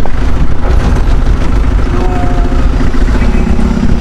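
A car engine with a faulty engine support runs with a loud, steady, rough low rumble and a constant vibrating drone close to the microphone, with no pauses.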